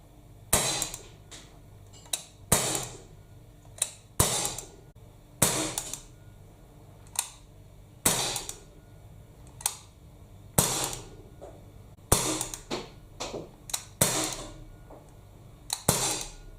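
Gamo C15 CO2 blowback air pistol firing about fifteen sharp, snappy shots, each a crisp crack with a short slide clack, spaced unevenly a second or so apart with quiet pauses between, close and loud.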